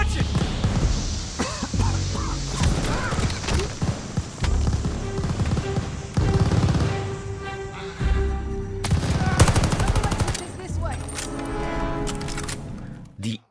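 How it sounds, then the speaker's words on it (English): Rapid gunfire bursts and single shots from the video game Call of Duty: Vanguard, loud and close with explosions and in-game effects, some stretches mixed with game voices. "The impact of each bullet is felt, and nearly every gun is really fun to handle."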